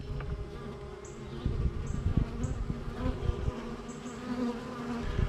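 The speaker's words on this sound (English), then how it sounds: "you can see the swarm down there. It's not really super big, but they're drawing comb." A small honeybee swarm drawing comb gives off a close, steady buzzing hum that never breaks, with occasional individual bees droning past, and no voices.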